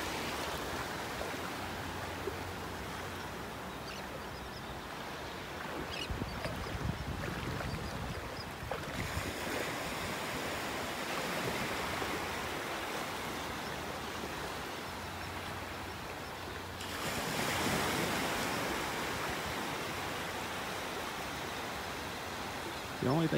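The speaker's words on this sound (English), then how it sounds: "just listening to the waves." Ocean waves wash onto a beach in North Naples, Florida, a continuous surf rush that swells and recedes in slow surges, mixed with light wind.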